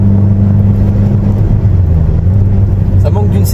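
A Renault Clio 2 RS 172hp engine drones steadily in fifth gear at about 3000 rpm and 90 km/h, a loud, constant in-cabin hum with no talking.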